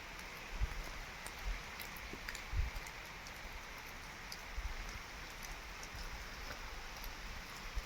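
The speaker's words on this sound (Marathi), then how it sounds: "हे बघा पाऊस पडतोय." Rain falls over an open farm field as a soft, even hiss heard from a sheltered spot, steady throughout with a few faint thumps underneath.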